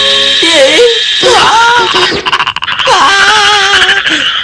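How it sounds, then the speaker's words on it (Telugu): Cartoon frogs croak in loud, warbling, pitch-sliding calls, several overlapping bursts with a short break in the middle, bright and up close with no talk over them. "కప్పలు"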